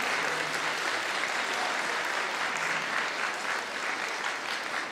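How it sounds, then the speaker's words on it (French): An audience at a Miss Excellence Picardie pageant applauds a Paris string quartet, warm continuous clapping from a large crowd filling the hall evenly for five seconds. "Vous pouvez les applaudir chaleureusement."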